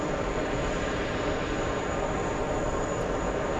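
A Delta airliner rolls off the runway at a busy airport, its engines giving a steady, loud, broadband roar with a faint high whine that holds evenly throughout, no voices.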